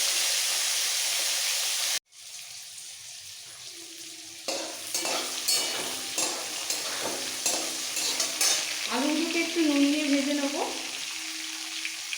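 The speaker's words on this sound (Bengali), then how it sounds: "এবার এই তেলের মধ্যে আলুটা ভেজে নেবো" Potatoes frying in hot oil in a home kitchen after fish, a steady crackling sizzle with a sharp cut near two seconds, then renewed spattering, scraping stirs and bubbling bursts close by, no voices.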